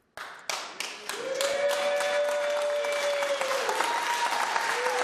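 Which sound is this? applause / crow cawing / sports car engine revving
applause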